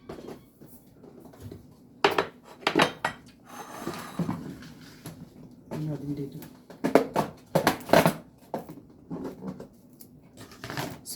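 Kitchen utensils clatter and scrape as someone rummages through them hunting for a grater while cooking a coconut-milk vegetable dish, with irregular bursts of clinks and knocks close by, mixed with speech.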